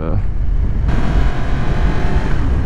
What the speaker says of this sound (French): ce son de crossplane, j'en suis vraiment amoureux